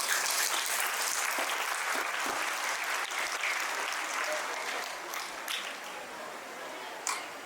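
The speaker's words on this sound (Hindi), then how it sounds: "तो भरत जी के लिए भी एक बार जोर से तालियां बजाएं" An audience at a school presentation in Faridabad claps loudly and steadily for several seconds, the applause gradually thinning toward the end with a few louder individual claps.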